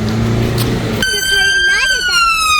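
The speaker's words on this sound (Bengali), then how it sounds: "অ্যাম্বুলেন্স" An ambulance siren passes close by on a street, its loud wailing tone cutting in suddenly after about a second of traffic rumble and sliding in pitch, with a voice speaking briefly over it.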